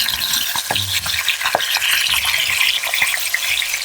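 Browned chicken pieces sizzle in a pan as they are flipped over with a utensil. Scattered scraping and clacking sounds rise over a close, steady frying hiss; no talking.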